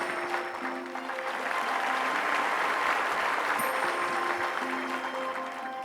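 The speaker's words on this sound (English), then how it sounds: "Big round of applause, please." Steady audience applause at an Indian book discussion event, sustained dense clapping at even loudness, with faint tonal music or hum underneath.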